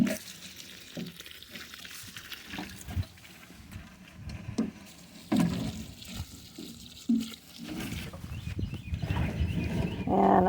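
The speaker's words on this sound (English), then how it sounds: "and I'm going to put some water on them." Water poured from a hose or can over dill plants in an outdoor garden, an uneven splashing and trickling that swells and fades in bursts, with occasional bird sounds in the background.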